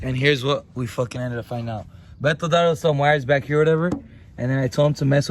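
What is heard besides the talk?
No everyday noise stands out behind the speech.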